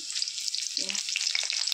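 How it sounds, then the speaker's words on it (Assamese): Two chopped green chillies frying in hot oil in a kadai for a cauliflower dish, giving a bright, steady sizzle with small popping crackles and a brief stirring scrape near the middle, no talking. "এতিয়া ইয়াতে দিম মই এয়া জলকীয়া দুটা কাটি"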